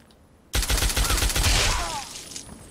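Rapid burst of gunfire from a powerful rifle in the video game Fallout 3, loud and close, starting abruptly and continuing in a dense stream of shots for about two seconds before fading out.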